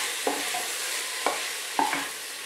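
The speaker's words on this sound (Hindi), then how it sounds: "इसको अच्छे से मिक्स कर देंगे और थोड़ा सा भून लेंगे।" Ginger, garlic and green chillies sauté in butter in a pressure cooker for vegetable biryani, a steady close sizzle broken by three brief scraping stirs.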